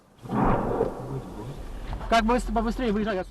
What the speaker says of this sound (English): Suddenly, there's incoming fire close by.